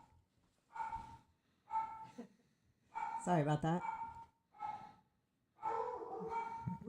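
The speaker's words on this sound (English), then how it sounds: "We have dogs, of course." Dogs inside a house bark in several loud bursts separated by short pauses, with a brief spoken voice among them.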